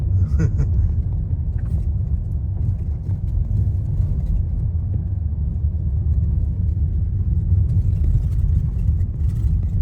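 A rented car without four-wheel drive drives slowly up a narrow, dusty mountain dirt road near Silverton, Colorado, with a steady loud engine rumble and road noise throughout.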